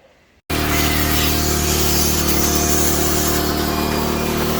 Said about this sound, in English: pull out the power washer and get to spraying on this thing